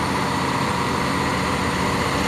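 Continuous broadband engine roar of a heavy Mitsubishi Fuso intercooler truck straining uphill, steady and loud with no pauses, likely heard from nearby.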